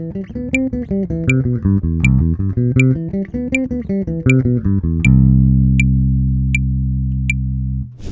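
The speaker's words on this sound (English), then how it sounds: "I was able to consistently play 16th notes at 80 beats per minute, which sounds like this." Sixteenth-note runs on a pitched instrument at 80 beats per minute, dense arpeggio-like figures for about five seconds, then a sustained low chord ringing out, with sharp metronome clicks ticking steadily on every beat throughout.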